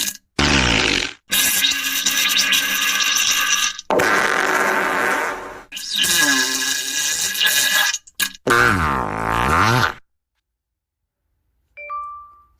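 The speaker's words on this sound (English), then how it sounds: "It sounded like Omarashi Freak's farting sound effect" An alternative farting sound effect plays as a run of loud, buzzy, drawn-out fart blasts separated by short gaps, ending in silence with a faint ding.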